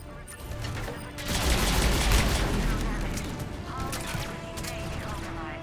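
Turrets aboard a ship in Mass Effect 3 fire in a dense, rumbling barrage, with heavy booms and a mechanical clatter rising after the first second and then holding steady beneath a voice.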